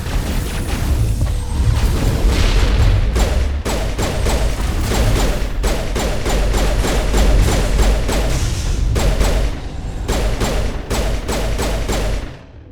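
Combat in Mass Effect at the Peak 15 lab on Noveria: loud, sustained weapons fire with rapid repeated shots and heavy booming explosions, dense and continuous for most of the stretch before cutting off.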